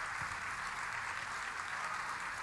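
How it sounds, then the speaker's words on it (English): Steady applause from a crowd at a Kielbasa festival evening ceremony, a continuous even patter of clapping that fills the whole stretch without pause. "Please give them a warm round of applause."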